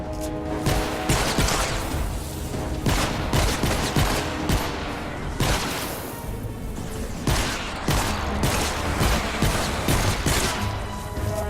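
Dense, sustained gunfire from Fortnite Save the World during a storm shield defense, rapid overlapping bursts and volleys running loud and continuous, with crashes mixed in and no voices over it.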